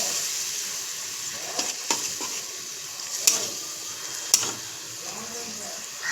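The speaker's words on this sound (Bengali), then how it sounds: "কষা কষা হোক, মশলাটা একটু কষানো হোক।" Masala with ginger frying in a pan for poppy-seed fish, a steady soft sizzle with a few light stirring clicks and scrapes, close and fairly quiet.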